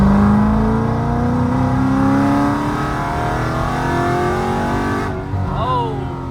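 A 426 Hemi Dodge Challenger build on a street tune pulls hard in third gear, its engine droning loud and steady with rising harmonics, then a brief tire chirp near the end as a voice reacts.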